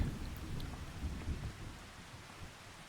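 Rain falls steadily in Farming Simulator 25, with low rolling thunder rumbling under it. The storm is loudest early and eases slightly toward the end, with no voices.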